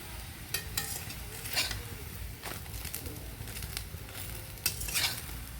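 Batter flatbread with vegetables frying in a pan, a steady low sizzle with a few sharp clinks and stirring scrapes of a utensil against the pan, close and moderately quiet, with no talking.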